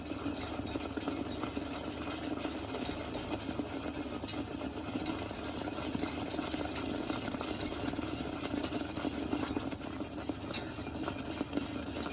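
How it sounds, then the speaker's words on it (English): Continuous stirring of a homemade chocolate mixture in a pot on the stove, a steady scraping and swishing of spoon against pan running without pause and without talk. "Make sure you stir continuously so that it does not stick or scorch."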